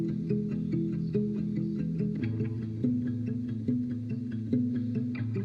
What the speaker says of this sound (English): So you kind of have this stereo ping pong thing with the rubber bridge on the left and the delay on the right